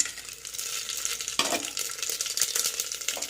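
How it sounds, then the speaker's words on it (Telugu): Whole spices, bay leaf and green chillies frying in hot ghee for vegetable fried rice, a steady sizzle with stirring and light clinks of a utensil against the pan. "నెయ్యి వేడైంది కాబట్టి మనం ఇవన్నీ వేసుకుందాము"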